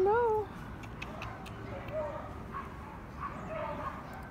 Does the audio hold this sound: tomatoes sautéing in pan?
no